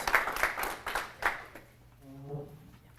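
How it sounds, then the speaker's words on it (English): Brief round of audience clapping for a girl named Grace at a live community event, a quick burst of hands that fades out in about a second and a half, followed by a voice speaking. "Give Grace a big round of applause."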